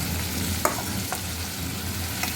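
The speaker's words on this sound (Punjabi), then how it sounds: "ਹੁਣ ਆਪਾਂ ਇਸ ਵਿੱਚ ਕੱਟੇ ਹੋਏ ਪਰਮਲ ਪਾਵਾਂਗੇ" Chopped pointed gourd cooks in a pan over onions that have already browned, giving a steady, close hiss of frying with a few faint stirring taps, and no one speaks.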